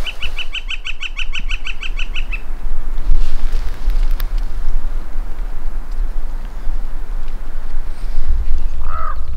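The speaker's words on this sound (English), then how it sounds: "those birds are already going crazy over there" A quick burst of harsh, honking bird calls repeats rapidly as birds gather over carcasses, then scattered squawks continue over a constant wind-like roar.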